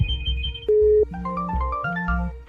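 A phone rings loudly and close by, playing a bright melodic ringtone of quick stepped notes over a low pulsing backing.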